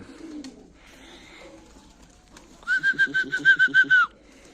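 Pigeons near a dovecote, with soft low cooing and scattered wing or body noise, then a close, bright series of rapid pulsed coos or whistles for about a second and a half.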